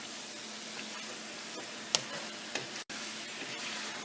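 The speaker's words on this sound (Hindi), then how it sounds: "लहसुन अदरक के साथ लो हीट पे चिकन को पका लेते हैं" Chicken frying with garlic and ginger over low heat for a jalfrezi curry, giving a steady, faint sizzle with a few small ticks and pops, close by and with no talking.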